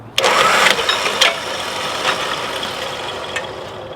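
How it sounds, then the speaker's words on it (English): An electric winch motor starts abruptly and runs steadily to pull a jammed rope in or out, a close mechanical whir with a few sharp clanks, loud at first, then settling, with no speech. "you winch it in or winch it out, you get it unjammed"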